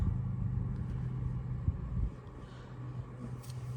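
An electric Volkswagen e-Golf drives along with a low, steady rumble of road and tyre noise inside the cabin, fairly quiet and without engine tone.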